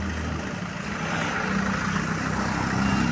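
A car pulls up and idles in Banaras (Varanasi), a low steady engine hum with a slight rise as it settles, heard nearby over faint street background, no talking.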